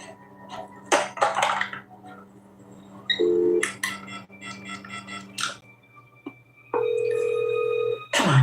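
Telephone keypad tones beep in short bursts of varying length, some held longer, mixed with clicks and clatter of handling the handset, all fairly quiet and close.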